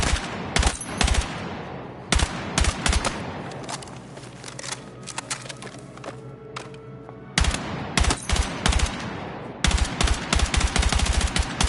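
Close-range weapon firing in Battlefield 6, several sharp rapid bursts of automatic gunfire separated by quieter gaps with lingering echo and game ambience, loud and near.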